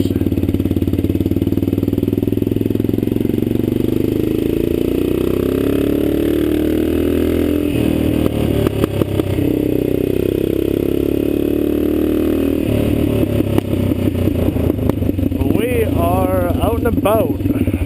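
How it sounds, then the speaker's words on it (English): An HL500 motorcycle engine runs steadily to warm up, a loud, close, continuous rumble through the whole stretch with slight revving near the end, and voices may be faintly mixed in. "main mission is to get the bike good and warm."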